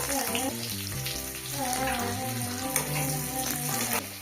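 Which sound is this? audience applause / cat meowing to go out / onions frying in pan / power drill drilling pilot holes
onions frying in pan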